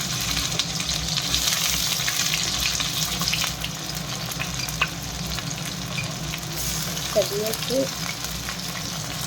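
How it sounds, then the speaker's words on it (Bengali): Chopped raw onions frying in a pan with dried red chillies for Bengali-style ghugni, a steady close sizzle running throughout under a woman's brief speech. "লাল লাল করে পেঁয়াজটা ভেজে নিই"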